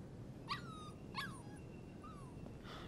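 A puppy in the video game Life is Strange 2 gives several short, high whimpers and yips spaced apart over quiet background ambience, with no talking.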